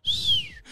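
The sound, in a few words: person whistling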